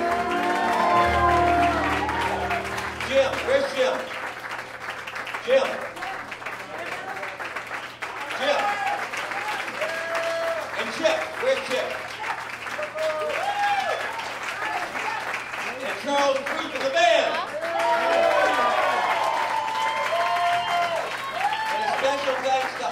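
A crowd at Atomic Cowboy in St. Louis keeps up sustained applause for the crew at a 50th birthday party, dense clapping and murmur running throughout while an amplified host calls out names over it.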